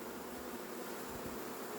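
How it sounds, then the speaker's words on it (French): Honeybees buzzing steadily around a recently settled swarm being collected outdoors, a continuous close hum with no voices. "il y a une abeille sur mes pieds"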